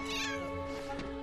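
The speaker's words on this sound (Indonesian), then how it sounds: "Bob melihat Nora yang terus memanggil kucingnya agar turun" A cat meows once in a drawn-out, whining call, close and fairly loud over a steady tonal hum.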